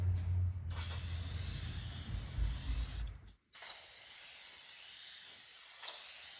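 Shellac is sprayed onto raw wood from an aerosol can in two long hissing bursts, separated by a brief pause, with a rattling clatter at the start.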